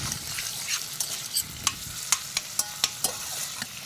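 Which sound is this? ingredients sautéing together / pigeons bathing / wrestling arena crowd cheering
ingredients sautéing together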